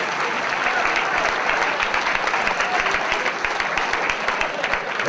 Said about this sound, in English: How about a round of applause for Herbert?